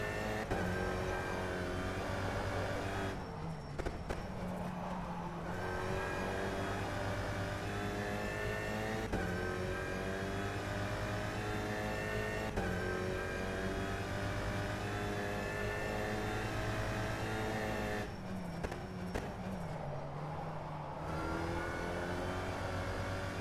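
Race car engine in rFactor 2 racing simulation revving hard and holding high throttle, with upshifts, brief dips and a steady howling drone across the lap, no talk.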